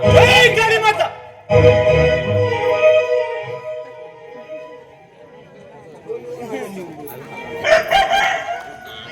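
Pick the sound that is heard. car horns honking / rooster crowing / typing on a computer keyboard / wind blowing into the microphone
rooster crowing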